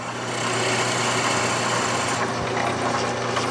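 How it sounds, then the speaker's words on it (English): A small workshop machine drills, countersinks and finishes holes in tobacco pipe stems, giving a steady high whirring buzz that runs continuously, with a slight change in tone partway through. "it does three different jobs. Drill the hole, countersinks, and it fills it off."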